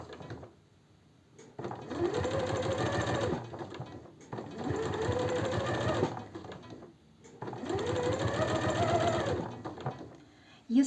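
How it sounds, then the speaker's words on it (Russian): A sewing machine stitches a Moscow seam in three separate bursts of rapid, whirring stitching, each a couple of seconds long with short quiet pauses between, close and clear with no talking. "Если вы хотите научиться строчить московский шов, вы должны просто это делать. Брать и строчить."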